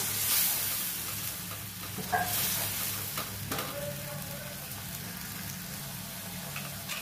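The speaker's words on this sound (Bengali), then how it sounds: "সুন্দর করে এরকমভাবে নাড়াচাড়া করতে হবে" Katla fish curry being stirred in a hot pan, steady sizzling hiss with scraping and a few spoon knocks, close up and with no talk.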